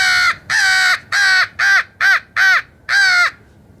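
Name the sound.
crow call imitating crow cawing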